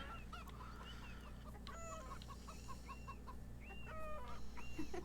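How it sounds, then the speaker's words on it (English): Chickens cluck repeatedly in short bursts in the video game Beyond Eyes over a steady low background hum, several calls overlapping and growing slightly louder toward the end. "Chickens don't sound at all like crows."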